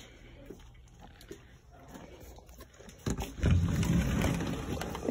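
Rain falls outside by a pool on a patio, a soft steady hiss that turns louder and denser partway through, close by, with no talking.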